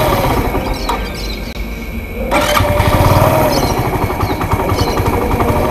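A Honda Intruder 125 motorcycle with a dirty carburetor, idle for a month, cranks and then catches, its engine running loud and close with a rough, uneven, sputtering idle.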